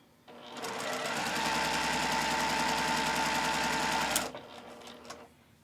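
A sewing machine stitching quilt fabric runs in one steady burst of rapid mechanical whirring for about four seconds, starting abruptly and stopping sharply, close and loud, followed by quiet handling.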